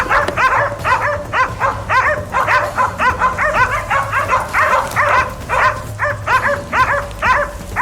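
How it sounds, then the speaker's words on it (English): Hunting hounds barking and yelping excitedly in rapid overlapping bursts while tracking wild boar, loud and close, a continuous chorus with no pauses. "Soon, a sharp bark rang out, a signal the prey had been located."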